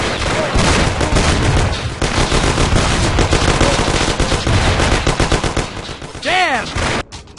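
Dense gunfire in a gangster shootout from the video game Mafia, with rapid machine-gun bursts and single shots rattling nonstop at close range, loud throughout, ending with a short whooshing sweep.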